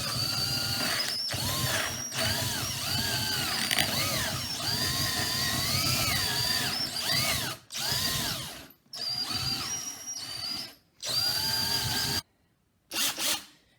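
Large drill bit boring a big hole into a wooden Halloween mace, a loud whining power-drill motor with rising and falling pitch, running in long bursts broken by several brief stops near the end.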